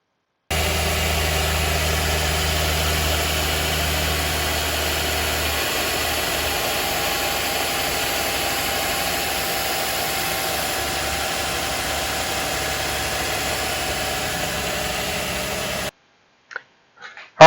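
A Nissan Quest's 3.5 liter V6 idles steadily after a power steering belt replacement, a constant close mechanical hum with a faint low rumble that holds evenly for about fifteen seconds before cutting off, with no voices.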